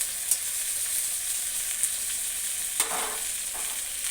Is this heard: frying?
yes